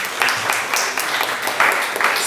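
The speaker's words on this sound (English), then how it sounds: "Round of applause, round of applause." Audience applause at an IEEE aerospace and electronic systems congress, a steady wash of clapping with a few sharper individual claps standing out, fairly close and moderately loud.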